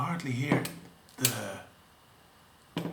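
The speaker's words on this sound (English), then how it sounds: "can hardly hear the shutter in this case" Several sharp mechanical clicks from a Ricoh 500G camera shutter, close and fairly quiet, spaced unevenly between stretches of talking.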